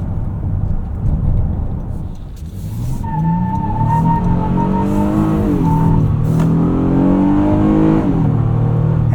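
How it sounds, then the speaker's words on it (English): A 2025 Honda Odyssey minivan, front-wheel drive with a V6, launches hard, engine revving up through gears as the front tires squeal, loud and close with no talk. "it does completely annihilate the tires on a spirited start"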